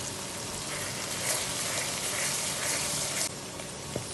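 Ground spice paste made with ready-made masala frying in a pan for a spicy chicken roast, a steady close hiss and sizzle that continues evenly, with a faint clink near the end.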